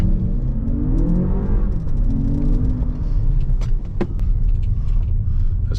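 Lexus RX500h F Sport AWD hybrid car driving, a steady low engine and road rumble with a rising pitch under acceleration, continuous and close, heard from inside the cabin with a few faint clicks.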